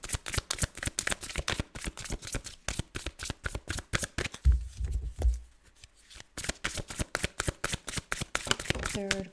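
Tarot cards being shuffled and drawn during a reading, a steady run of close, crisp riffling flutters and slaps with a brief soft pause partway through.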